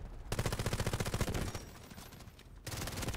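A fully automatic G18 pistol in a Battlefield video game fires two rapid, loud bursts of closely spaced shots, separated by a brief pause.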